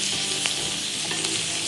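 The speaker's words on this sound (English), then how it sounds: "We're just gonna let this saute for about 3 to 4 minutes." Asparagus and pancetta sautéing in melted butter in a pan give a steady, close, loud sizzle with faint stirring clicks and no talking.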